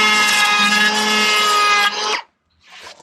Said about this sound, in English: I just love this little Milwaukee planer.